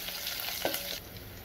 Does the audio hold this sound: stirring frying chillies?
yes